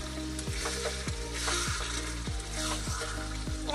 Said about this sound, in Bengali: এবার এটাকে আমরা ভালো করে কষাবো